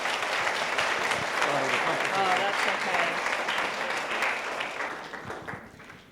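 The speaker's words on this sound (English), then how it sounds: "I'd like everybody to give a round of applause to Monica Bernard." Applause from the audience at a community homelessness summit in Kitsap, April 2018, welcoming a speaker to the stage: a dense, steady wash of many hands clapping that thins and fades toward the end.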